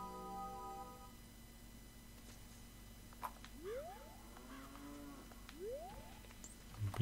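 A cow in the N64 game The Legend of Zelda: Ocarina of Time gives two rising moos, one around the middle and one later, both faint over quiet in-game background music.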